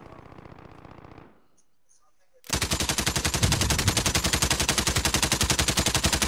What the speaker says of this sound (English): He's trying to shoot the claymore.